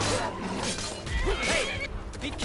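A horse in the video game Skyrim whinnies after being struck, a short rising neigh heard amid busy game sounds and background noise.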